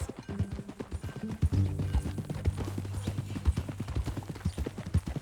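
Horse hooves clip-clop in a steady walking rhythm in Red Dead Redemption 2, close and distinct over low background music, with no talking.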